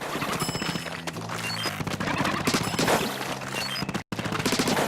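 Rapid weapon fire in the Splatoon video game, a gatling-style ink weapon, keeps up a dense, loud, continuous burst of shots with game effects layered over it and a brief cutout near the end.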